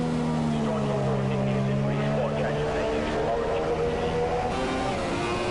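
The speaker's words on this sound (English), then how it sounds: "Look at the amount of revs he's using" A Formula 2 racing car engine revving hard onboard at Silverstone during the British GrandPrix in wet conditions, a loud continuous high-pitched drone with shifting revs throughout, with steady wind and road roar underneath.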